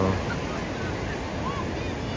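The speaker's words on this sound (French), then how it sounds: "Des belles droites qui déferlent" Ocean surf at Punta Hermosa, Peru, with sizable right-hand waves around two metres breaking along the shore, a steady washing roar under wind buffeting the microphone, and a voice speaking over it.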